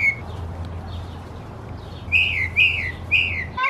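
A bird chirps a few bright, quick tweets in succession, fairly close, over a soft outdoor hum with no one talking.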